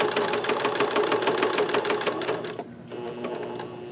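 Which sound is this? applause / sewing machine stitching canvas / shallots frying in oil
sewing machine stitching canvas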